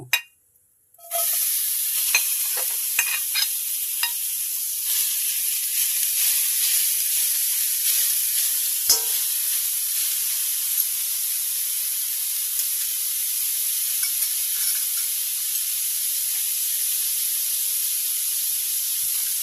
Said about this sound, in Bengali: এলাচি দারুচিনি দিয়ে দিচ্ছি গাজর কুচানোগুলো দিয়ে দেব